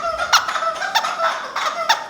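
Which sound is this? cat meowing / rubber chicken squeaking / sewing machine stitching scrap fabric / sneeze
rubber chicken squeaking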